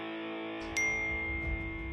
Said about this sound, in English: I just got a notification